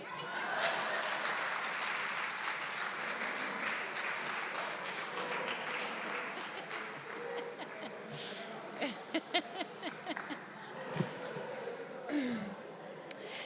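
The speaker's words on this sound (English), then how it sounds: "Let's give him another round of applause" Conference attendees applaud a statistician general after his talk, a broad, steady round of clapping that gradually thins into scattered claps, with a voice and a few bumps near the end.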